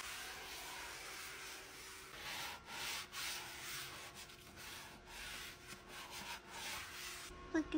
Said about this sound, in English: I love having a clean, empty counter. And scrubbing it clean.